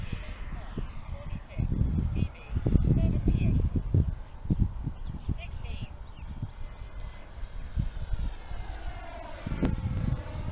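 A Flyfans 64mm EDF L-39 radio-controlled jet running on 6S power flies fast overhead, its high turbine-like whine rising and falling in pitch as it passes, partly masked by heavy gusting wind on the microphone.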